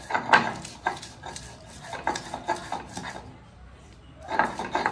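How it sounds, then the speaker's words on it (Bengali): Ginger and garlic being ground by hand on a traditional sil stone grinder, producing rhythmic scraping and knocking strokes that come in irregular bursts, fairly quiet and close, with a short lull near the end. "প্রথমে আদা কুচি আর রসুন, আদা রসুনটা বেটে নিচ্ছি।"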